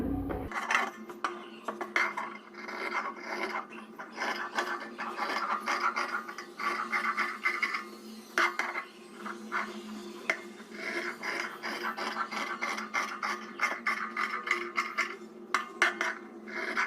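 Scissors cutting fabric pieces for blouse piping, close crisp snipping and scratchy blade strokes in irregular bursts, with light clicks and taps against a table, over a steady low hum.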